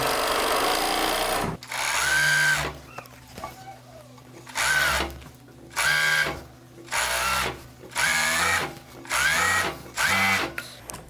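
A coverstitch machine sews through stretchy fabric in repeated short bursts of rapid mechanical whirring, about five or six runs each a second or so long, separated by quiet pauses as the garment is repositioned.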